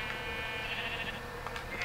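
A llama in the video game Minecraft, heard as a short bleating, sheep-like call over a steady game background, fairly close and clear with no talking.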